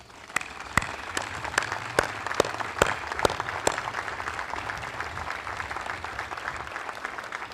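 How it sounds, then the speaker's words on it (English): An audience at an Army TRADOC inactivation ceremony applauds steadily, a dense wash of many clapping hands with a few sharper, louder claps standing out near the start before the sound settles into an even, sustained round. "I'd like a big shout out here and a round of applause for Team Brito."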